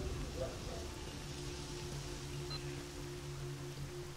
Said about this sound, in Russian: О, дождь пошел.